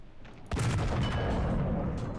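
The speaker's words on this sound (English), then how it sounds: "Yeah, I'm gonna take a shot on that T-44." Tank gun firing at a T-44 in War Thunder, one sharp loud boom after a short quiet moment, followed by a long rumbling decay.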